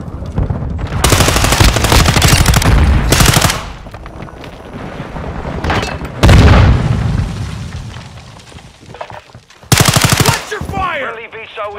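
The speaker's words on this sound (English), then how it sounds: "Cruise missile deployed." Cruise missile strike in the video game Call of Duty: Modern Warfare II: loud machine-gun bursts and booming explosions in a dense battle mix, with a final sharp blast and rumbling debris.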